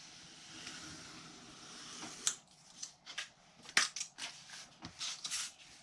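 Scissors snip through paper while a gift card is trimmed, a series of short, crisp cuts coming in irregular bursts close by, with quiet pauses between them.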